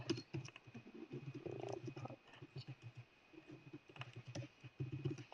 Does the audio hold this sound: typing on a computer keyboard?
yes